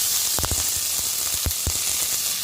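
Onions, green chilies and curry leaves frying in oil give a steady close sizzle, with a few sharp crackles and pops scattered through it.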